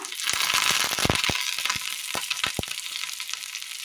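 Mustard seeds and curry leaves hit hot oil in a pan, giving a bright, hissing sizzle peppered with sharp popping crackles that ease slightly over a few seconds.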